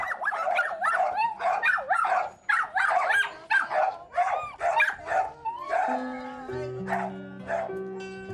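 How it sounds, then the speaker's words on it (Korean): Several dogs, survivors of a large Gangwon Province wildfire, bark in rapid overlapping bursts nearby, with yips and whimpers. A sustained tonal hum, like an engine or horn, rises under the last few seconds. "갑자기 짖기 시작하는 개들."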